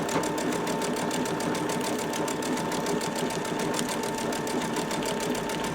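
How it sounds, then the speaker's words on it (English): A Babylock or Brother sewing machine stitching decorative stitches at slow speed with loosened tension, a steady rapid needle chatter and motor hum, close and uninterrupted, with no talking. "I'm just going to stitch right along this inside of the stitch"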